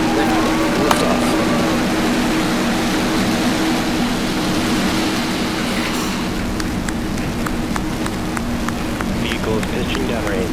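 SpaceX rocket engines roar after liftoff on the PAZ and Microsat 2a, 2b launch, a steady, loud broadband rumble that runs the whole time while voices talk and cheer over it.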